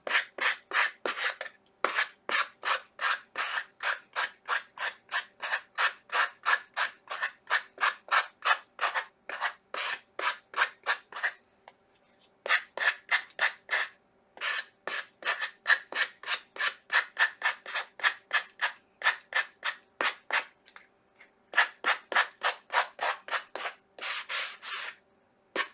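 Repeated rhythmic rubbing strokes of a sanding block working along the edges of a home decor piece, steady back-and-forth bursts close up with short pauses between runs, no voices.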